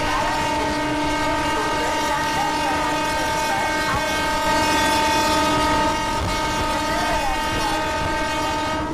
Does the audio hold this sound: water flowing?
no